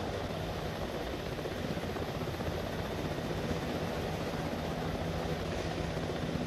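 Steady, continuous video game helicopter rotor and engine drone, loud and unbroken throughout with no pauses or voices.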